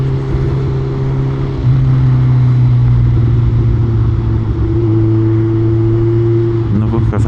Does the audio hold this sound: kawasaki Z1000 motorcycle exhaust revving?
yes